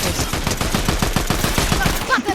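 Rapid bursts of gunfire in Fortnite, a dense run of sharp, evenly spaced shots that rattle loudly throughout, with a faint voice slipping in near the end.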